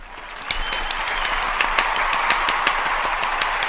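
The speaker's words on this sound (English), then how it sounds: "let's give you the round of applause" A round of applause from an audience at a live comedy or cabaret show, steady close clapping with sharp individual claps standing out throughout the short stretch.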